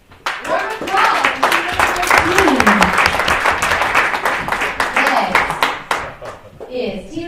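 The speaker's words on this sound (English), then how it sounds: "Round of applause." Sustained applause from an audience at a hackathon presentation livestream, dense steady clapping for about six seconds before tapering off, with some voices underneath.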